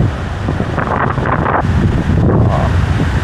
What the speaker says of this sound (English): The wind is so good right now here.